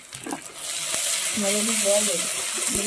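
Ginger garlic paste hits hot oil in a pan with onion, a steady close sizzle swelling after a brief stir and small clatter, with a light voice faintly underneath.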